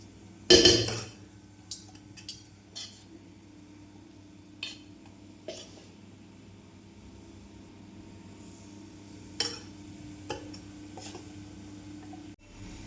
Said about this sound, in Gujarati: બ્રાઉન થાય ત્યાં સુધી આપણે ભજીયાને તળી લઈશું.